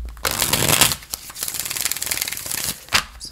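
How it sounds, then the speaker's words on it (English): Tarot cards are shuffled hard and fast up close, a dense crisp riffling and flapping that surges in quick bursts, with no one talking. "I'm shuffling these really hard"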